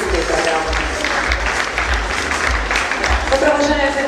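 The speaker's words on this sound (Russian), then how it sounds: "Аплодисменты" Dense, steady applause from a ballroom dance competition audience after an adult European-program final, filling the whole stretch, with a voice and faint musical tones running underneath.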